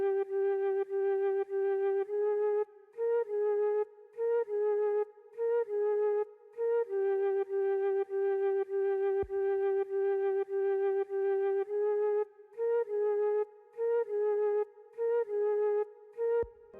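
Choppy, plucky synth melody from an FL Studio Afrobeats remake of a song, short rhythmic stabs with brief gaps repeating in a bouncy pattern, loud and clear with no voices.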